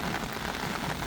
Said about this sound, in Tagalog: Ay, lakas ng ulan.